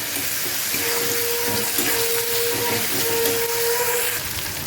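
Onion and tomato frying in hot oil in a home kitchen pan, giving a steady, close broadband sizzle with a faint thin whistling tone running through it and no talking.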